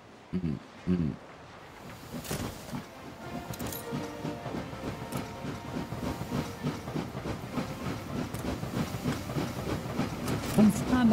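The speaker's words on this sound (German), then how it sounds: "Warum fahren da so viele Züge immer hintereinander?" Trains in the video game Anno 1800 rumble and clatter steadily with faint hiss, growing slightly louder toward the end, with a few short thumps near the start.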